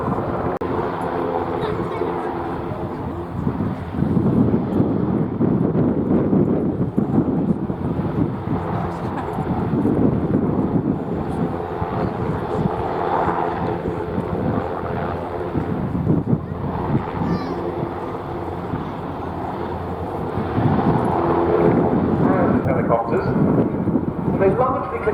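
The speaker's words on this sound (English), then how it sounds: "we see the NH90 coming into display centre and deploying the rescue diver from a 65-metre line" NH90 helicopter hovering near display centre at a Duxford air display, lowering a rescue diver on a long line about 100 feet up; a steady, loud rotor and engine drone runs throughout with wind buffeting and a commentator talking over it.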